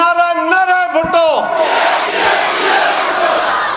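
At a Pakistan Peoples Party rally in Azad Kashmir, a leader's raised shout gives way to a big crowd roaring its slogan back in unison, a broad, loud wash of voices that swells and carries on to the end.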